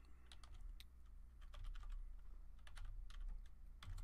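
Rapid, fairly quiet typing on a computer keyboard with a new layout, keys clicking in uneven bursts close up with no talking.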